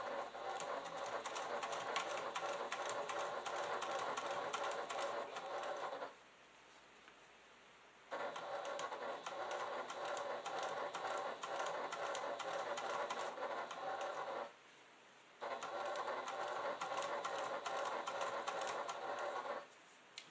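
A sewing machine stitches slowly through a bulky, padded clutch bag, running in steady bursts of close mechanical chatter that stop briefly twice before starting again.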